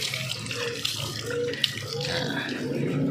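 Water pours and splashes steadily, like a stream running from a tap into a basin, with faint talking in the background.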